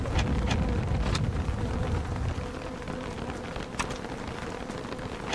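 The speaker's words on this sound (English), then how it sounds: "Oh, lovely. More rain." Rain in the video game Don't Starve Reign of Giants, a steady hiss of falling rain with some gusty wind and occasional sharp ticks, moderately loud with no talking.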